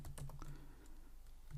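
Keys on a computer keyboard tapped in a short, quick burst of soft clicks while coding in Kotlin, then a pause, all faint over a low steady hum.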